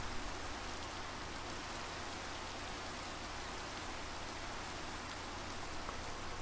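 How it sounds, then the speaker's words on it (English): Steady, dense rain hiss from a Minecraft server world, falling continuously and evenly throughout with no voices over it. "And it's raining."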